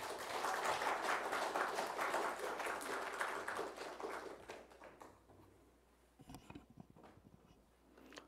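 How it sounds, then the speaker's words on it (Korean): Church congregation applauds to welcome the pastor, a dense wash of clapping for about five seconds that fades out, followed by a few scattered taps and shuffles in the hall. "박수로 환영하겠습니다"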